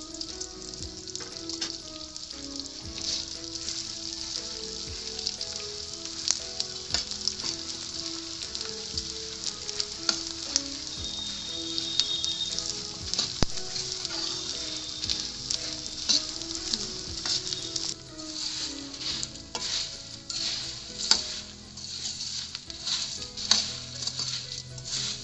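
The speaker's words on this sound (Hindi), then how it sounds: "सबसे पहले हम इसमें गोंद फ्राई करेंगे।" Edible gum (gond) frying in hot ghee in a kadai, a continuous soft sizzle and crackle with scattered pops, steady and close, with occasional stirring.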